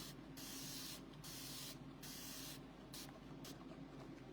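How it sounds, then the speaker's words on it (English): Steady hissing rub of a felt board eraser wiped over a chalkboard during chalk crafting, a continuous close scrubbing broken by brief pauses in rhythm, with no talking. "This is a board eraser. I hate that noise."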